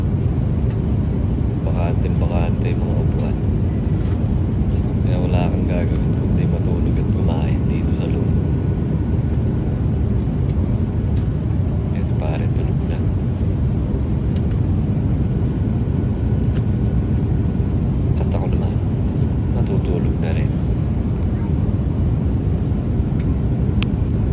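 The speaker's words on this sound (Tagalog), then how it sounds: "Aeroplano. Grabe, wala masyadong pasahero." Steady, loud, droning cabin noise fills a passenger airplane in flight toward Singapore. Voices come and go beneath the roar.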